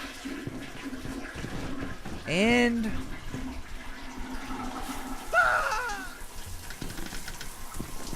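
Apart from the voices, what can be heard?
toilet flushing in the video game Ghostbusters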